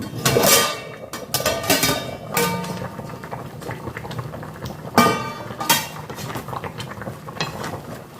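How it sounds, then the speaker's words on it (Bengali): A metal lid comes off a pot of simmering prawn malai curry: scattered clinks and clatters of cookware, with the faint bubble of the curry between them, close and fairly loud. "এবার একটু ঢাকনাটা খুলে দেখি"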